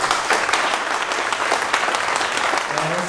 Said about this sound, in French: si vous pouvez me réapplaudir très fort